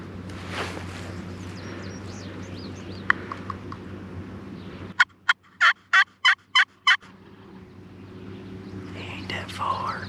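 A wild Maryland longbeard turkey on public state land gives a rapid burst of about six loud gobbles in the middle, between quieter stretches where a person whispers over faint outdoor background.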